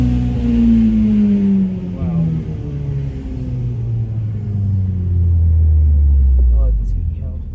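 A tuned Stage 3 Audi S3 making 460 bhp roars under hard acceleration, heard from inside the car as a loud, continuous engine drone with deep rumbling harmonics that shift in pitch throughout.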